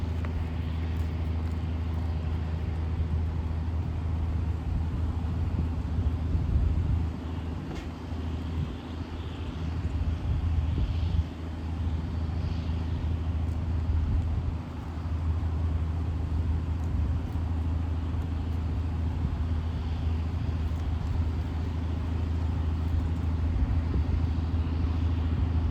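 A 2021 Toyota RAV4 LE backing up beside a lake, a low steady engine hum and tyre rumble throughout, moderate and unbroken, with no talk.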